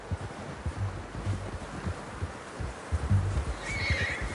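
A horse in the video game Red Dead whinnies and snorts close by, with faint hoof clops and a soft windy background.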